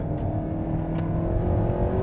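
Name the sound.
Alpine A110R sports car driving on Jarama circuit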